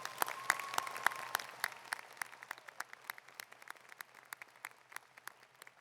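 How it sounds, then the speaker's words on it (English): At a college spring commencement, the audience applauds a graduating student. Steady, moderately distant clapping from a large crowd carries on throughout, a little fuller at the start and then thinning slightly. "let's one more round of applause for Lilly"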